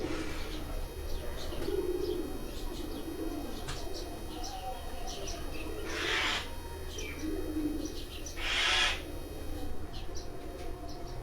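A pigeon on a rooftop coos softly in a few low, rolling phrases, with occasional chirps from other birds over steady outdoor background noise; no speech is heard.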